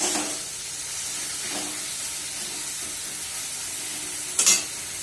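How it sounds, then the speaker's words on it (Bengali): Leafy greens with tomato fry in a pan with a steady, close hissing sizzle, a few soft stirring strokes, and one sharper clatter of the utensil near the end. "ভাজা ভাজা করে নিই"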